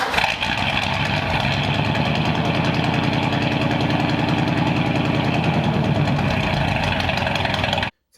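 Side-valve engine of a Renault Monaquatre car running close up with a steady, even low-pitched chug and mechanical clatter, holding a constant speed for about eight seconds before cutting off abruptly.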